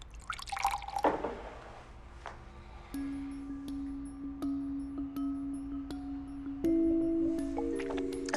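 Water is poured, starting with a few splashy drips and then a steady trickling stream whose ringing tone shifts as the vessel fills, close and clear with no talk.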